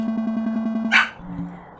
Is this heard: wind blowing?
no